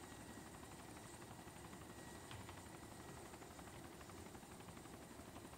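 Helicopters in the Arma 2 DayZ mod give off a steady, dense rotor drone. The sound stays constant and fairly loud throughout, with no talk over it.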